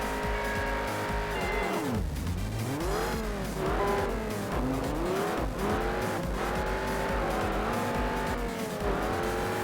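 Dodge Viper racing in the Juiced video game, its engine note rising and falling steadily through gear changes, with tire squeal and skidding mixed over continuous loud car noise.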